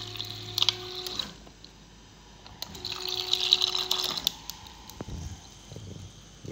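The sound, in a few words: water dispensing from LG Instaview refrigerator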